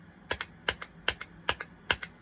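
Crisp keystrokes on a computer keyboard, about ten clicks falling in loose pairs at an even pace, close and clear over a quiet background with no talking.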